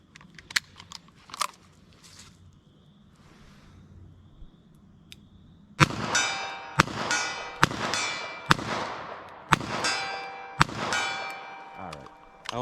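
Handgun shots strike a steel trainer target, giving a loud, sharp metallic clang with ringing decay, repeated about once a second in a steady string after a few faint, scattered clicks.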